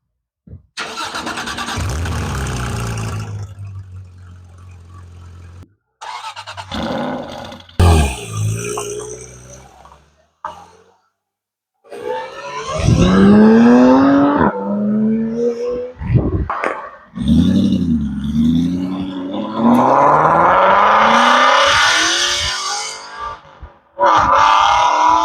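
A 2018 Porsche GT3 RS and a 2009 Aston Martin Vantage starting and revving their engines up close, in loud rising bursts separated by short pauses, with deep rumbles and sharp climbing roars, and no talking.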